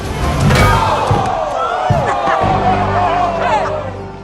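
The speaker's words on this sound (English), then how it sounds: "The crowd roars in approval, impressed by the unexpected turnaround." A crowd at an underground fight bursts into a roaring, cheering swell that rises loudly and then eases off, with shouts and babble mixed into the din.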